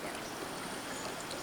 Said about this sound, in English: I'm peeing right now.